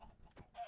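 Minecraft chickens give a couple of quick, faint clucks in the game, brief and distant.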